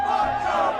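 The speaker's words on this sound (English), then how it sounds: "as you can hear the chants from the crowd" A political crowd chants in unison at a rally, a dense sustained roar of many voices heard from a distance, filling the whole short moment without pause.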